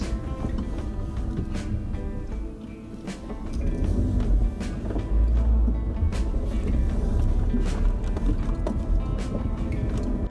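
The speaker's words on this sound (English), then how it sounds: "This time I decided to drive most of the road in the field." Suzuki Vitara 4x4 with All-Grip four-wheel drive crossing a field of fresh snow off-road, a low rumbling drive noise with wind buffeting the microphone, growing louder midway and steady to the end.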